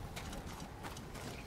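Horse hooves clip-clopping in the video game Ghost of Tsushima, a faint, quick patter of footfalls under a soft, noisy background.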